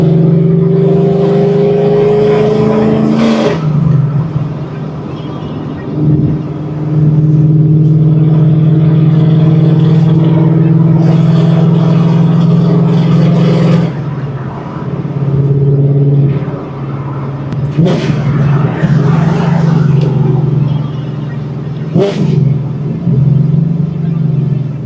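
A Ford Mustang driven hoodless down a highway near New Orleans, its engine giving a loud steady droning rumble with road and wind roar and a few sharp bumps, while someone talks over it at times.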